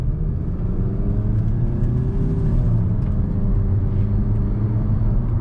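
Interior drone of a 2022 Nissan Altima 2.0 VC-Turbo SR accelerating in drive on a small road, a steady low engine and road rumble with a slowly rising tone and no talking.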